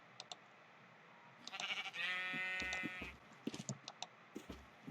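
Sheep bleat in a survival video game, one long, loud, wavering bleat with shorter clicks and game noises around it and no voices.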